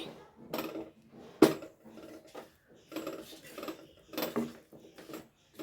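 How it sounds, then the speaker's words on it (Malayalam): A hand spatula stirs a spiced marinade through oil in a metal dish, giving a series of close scraping, clinking strokes in irregular bursts with a sharp clack near the start. "ഞാൻ കൈ ചട്ടുകം തന്നെ എടുത്തിട്ടാണ് കേട്ടോ ഇപ്പോൾ കൂട്ടിക്കൊണ്ടിരിക്കുന്നത്"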